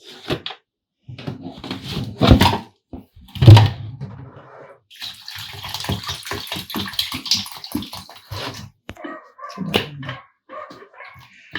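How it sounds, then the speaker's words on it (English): Water poured into a container of organic fertilizer mix for garden plants, a splashing pour in bursts, with a person speaking in between. "Let me add some more water to this."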